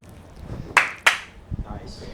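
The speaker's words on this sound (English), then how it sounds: "The double clap is good." Two sharp hand claps ring out in quick succession, close and fairly loud, with soft background voices murmuring before and after.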